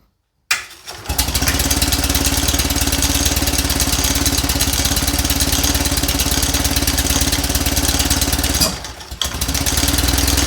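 A cold Invacar engine runs steadily with a rough, buzzing mechanical note, loud and close, with a brief dip near the end before it picks up again; no one speaks.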